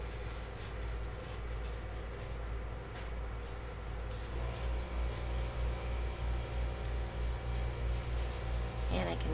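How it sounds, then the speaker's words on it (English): An airbrush sprays gold paint onto a diptych painting. A soft, steady hiss switches on partway through and continues to the end at low volume. "And then I'm going to move it around with my airbrush because I have to blend that in."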